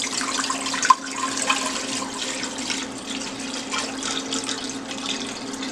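A gallon of water poured from a pitcher into a pot, a continuous splashing, gurgling pour at close range with a brief knock near the start, no talking.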